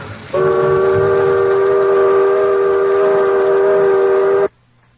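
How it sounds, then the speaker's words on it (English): Steamboat steam whistle sounding one long, loud, steady blast of about four seconds that then cuts off sharply, leaving quiet background. "It was only then that I had the sense to go sound the wretched steam whistle."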